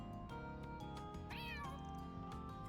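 Cat meowing in the video game Trails Beyond The Horizon, a sharp rising-and-falling meow in the middle over steady background game music.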